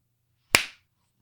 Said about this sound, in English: I almost clapped my nose.